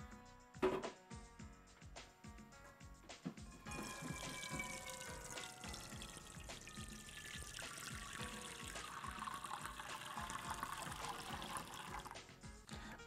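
Water runs from a tap and trickles into a cooking pot, starting with a few clinks and splashes, then a steady filling stream whose pitch rises as the pot fills, close and fairly quiet with no talk.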